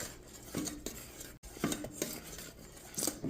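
Spoon stirring hot caramel for popcorn in a pot on the stove, steady scraping and clinking strokes with a faint sizzle between them, close and without talk.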